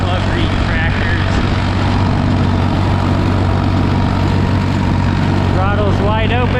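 A Ford tractor engine drones steadily at wide open throttle while rolling along a road during haying, a continuous loud low rumble with no break; no voices are heard.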